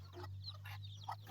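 A bantam hen with a brood of about twelve young chicks makes soft, close clucks and peeping calls over a steady low hum.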